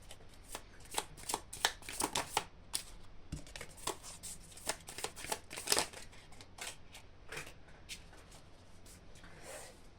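Cards being shuffled repeatedly during a card reading, a close, crisp run of riffling bursts that thins out toward the end, with no talking.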